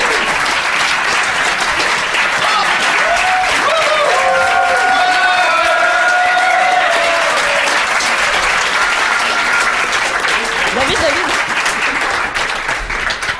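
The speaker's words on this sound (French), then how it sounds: "Oh là là, le standing ovation." A standing ovation from a podcast audience: loud, sustained applause with steady dense clapping throughout and a few cheers and voices mixed in, close and filling the room.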